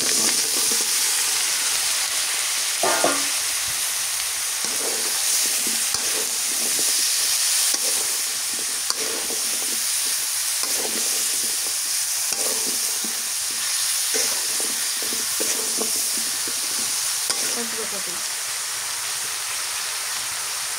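Garlic paste sizzles and fries in a hot pan in a rural Bengali kitchen, with a steady hiss throughout and repeated scraping stirs at irregular intervals; no voices.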